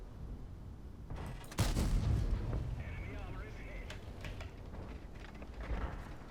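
In World of Tanks, the gun of a Manticore tank fires a single heavy boom followed by rumbling battle noise, amid ongoing game ambience with faint voices underneath.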